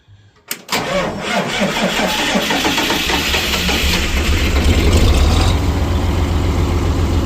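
A vehicle engine that has been plugged in against the cold and fog cranks briefly, fires up loudly and settles into a steady, close, rumbling run with slight revving.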